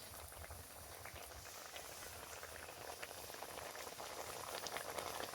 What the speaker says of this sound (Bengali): এখানে জলটা খুব ভালো করে ফুটে উঠেছে